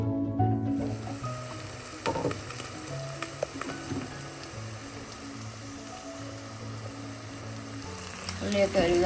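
Onions fry in a pan with crushed ginger and garlic, a continuous close sizzle and crackle with stirring scrapes and occasional clinks throughout; nobody speaks.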